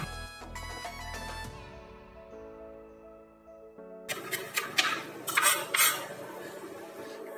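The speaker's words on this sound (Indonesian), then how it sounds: "Seledrinya saya iris halus sekali ya." A knife slices celery and spring onion finely on a board, a cluster of quick, close cutting taps following softer kitchen clatter and a quiet lull.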